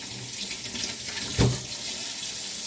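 Running water rinses and swirls sea moss in a sink, a steady close wash with one brief louder splash midway.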